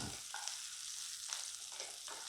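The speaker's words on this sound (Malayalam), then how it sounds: "ഇട്ട് ജസ്റ്റ് ഒന്ന് മൂപ്പിക്കുക ഒരു തേർട്ടി സെക്കൻഡ്" Steady sizzle of food frying in very hot butter and oil for a North Indian matar paneer base, a faint continuous hiss with a few soft stirring scrapes.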